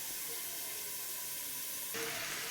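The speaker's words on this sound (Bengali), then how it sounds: "এবার এইটাকে আমি আবার চাপা দিয়ে দিয়ে ভাজবো" Pumpkin and potato fry in a pan while being pressed down, giving a steady close sizzling hiss that swells louder near the end.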